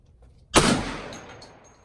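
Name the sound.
AR rifle gunshot at a shooting range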